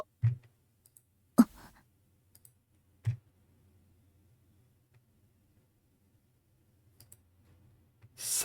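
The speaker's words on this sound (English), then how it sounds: "Reyes' fingers touched the keyboard." Keyboard keys in the visual novel Steins;Gate 0 give a few sparse, separate clicks, soft and spaced out over near silence, with no talking.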